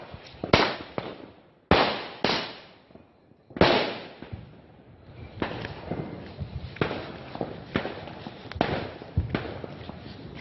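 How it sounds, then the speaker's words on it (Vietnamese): Firecrackers exploding on New Year's Eve: a string of sharp, loud cracks in irregular bursts, some close and heavy, others quicker and lighter, with crackling between them. "mình lên để mình lấy pháo trứng đốt nha"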